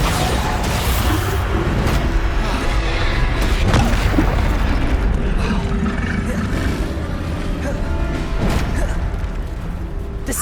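Bombarda spell blasts in Hogwarts Legacy combat go off in dense, repeated booms and crashes over a constant roar of game noise, loud and chaotic throughout.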